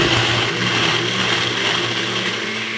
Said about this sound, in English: And then I'm going to turn on the blender, give it a good 1 minute of whirling